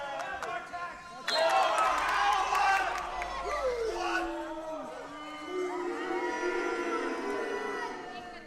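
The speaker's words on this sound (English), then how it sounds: "from the decision from the crowd there, you think they might have disagreed with the referee on that one" Football crowd in a stadium reacting to a referee decision at the England vs Northern Ireland final, a loud surge of mixed shouting and jeering under commentary, with sharp whistles and cries rising and then falling away.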